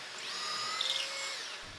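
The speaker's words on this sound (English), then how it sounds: "I used my Kreg K3 jig to drill pocket holes in all the 2x4 support blocks" A drill with a Kreg K3 jig bores pocket holes into 2x4 support blocks, giving a steady high whine that rises and holds for a couple of seconds, close and alone.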